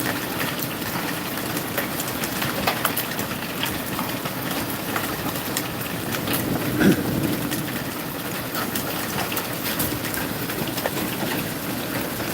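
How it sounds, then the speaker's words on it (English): Pea-sized hail mixed with a few golf-ball-sized stones falls steadily during a nighttime storm, a dense, constant patter with a faint rumble beneath and no voices. "I'd say probably pea-sized hail right now"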